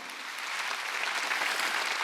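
Congregation clapping together during a church worship service, a dense, steady wash of applause that holds at even loudness for about two seconds.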